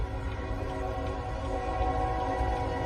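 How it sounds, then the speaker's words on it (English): A train rumbles steadily nearby with a low, continuous roar and a sustained tonal horn-like drone running throughout, no voices. "There's a train coming."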